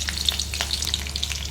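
Green chillies and cumin seeds fry in hot oil, giving a steady, close sizzle with light crackling pops throughout and no talking.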